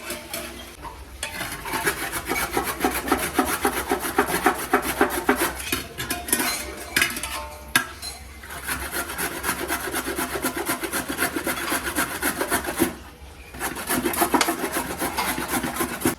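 Carrots are grated by hand for carrot halwa, giving steady rhythmic rasping strokes against the grater, close and loud, with a few brief pauses and no talking.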